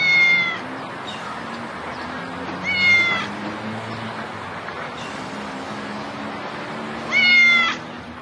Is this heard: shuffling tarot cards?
no